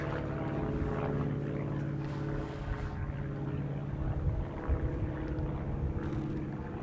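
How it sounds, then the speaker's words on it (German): A propeller airplane passes overhead, a steady, fairly loud broadband drone holding throughout with a low tonal hum, as if heard outdoors during a test ride on an e-bike with a Pinion MGU drive. "das Flugzeug da oben, ich weiß nicht, ob man es sehen kann, das Flugzeug ist auf jeden Fall deutlich lauter"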